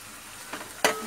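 Onion and coconut masala paste hits hot oil in a pan for a Maharashtrian ghevda bhaji, giving a soft hiss and then a sharp burst of sizzling near the end, with a faint stir before it.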